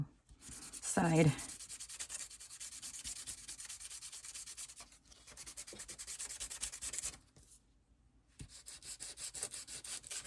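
Paper for a journal is sanded in brisk back-and-forth strokes, close and fairly soft, producing a continuous gritty rasp that stops for a moment near the end before resuming.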